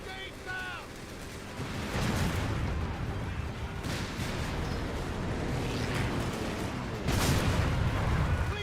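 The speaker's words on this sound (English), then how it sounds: "Let's go ahead and get an airstrike in there." Airstrike explosions land in a video game battle, several heavy booms rolling out over continuous battlefield din, with a big blast near the end and chirping tones at the start.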